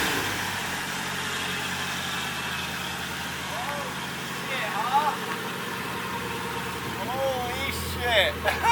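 A Nissan S14 Kouki engine running with a steady low idle drone, plus faint chirping VTC whine near the end; a voice talks over it.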